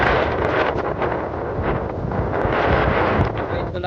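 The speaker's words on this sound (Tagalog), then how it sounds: "Malakas kasi yung hangin." Strong wind buffets the microphone outdoors beside a newly planted rice field, a loud, continuous rushing roar with gusty surges throughout.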